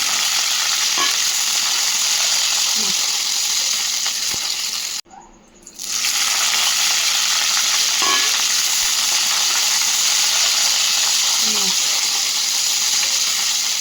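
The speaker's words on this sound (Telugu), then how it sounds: "ఆయిల్ వేసి పచ్చిమిర్చి వేయించుకుందాం" Green chillies fry in oil, producing a loud, continuous crackling sizzle that drops out briefly midway before resuming at full strength.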